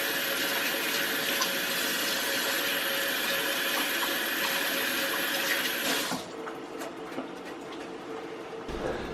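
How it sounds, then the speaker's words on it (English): A kitchen sink garbage disposal grinds chopped lemons with a loud, continuous churning rush of water and motor noise that cuts off abruptly, leaving a quieter drain and room hum. "Just chop them up and run them through your garbage disposal in your sink, so it freshens it up."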